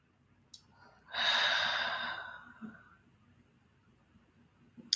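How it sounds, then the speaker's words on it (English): Deep breath out through a wide open mouth during a guided breathing exercise, one long breathy airy exhale lasting about two seconds, close and soft against a quiet room. "Deep breath in, wide open mouth, exhale."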